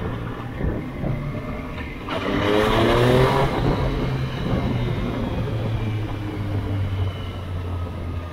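A superbike with an Aero exhaust revs up sharply, then settles into a steady, throaty exhaust drone, loud and close with no talking.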